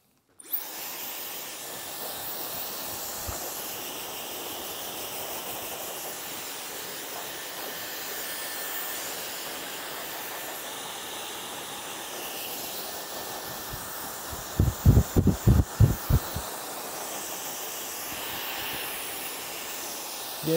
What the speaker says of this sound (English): And let's just start blow drying her.